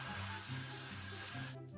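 Freeze hairspray hisses steadily from a can onto curly hair in a close, continuous spray lasting under two seconds, then cuts off.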